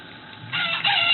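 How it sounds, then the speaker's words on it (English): A noisy chicken, apparently a toy being played with, lets out a loud, harsh crowing squawk that swells and holds for about a second, close by and alone. "Is that noisy chicken?"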